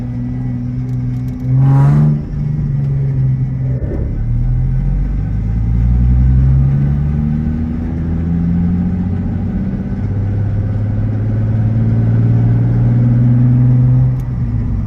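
A Nissan 350Z with a rear-mount turbo and a blown transmission drives along in neutral, its engine rumbling steadily with low droning tones that rise and fall, plus one brief sharper mechanical burst early on.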